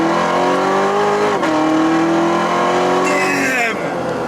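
A right-hand-drive 2019 Chevrolet Corvette Z06 accelerates hard at full throttle, its loud engine note climbing through the revs, dropping briefly at a gear change, then rising again, with a passenger voice speaking over it.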